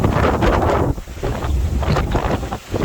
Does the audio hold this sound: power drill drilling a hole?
no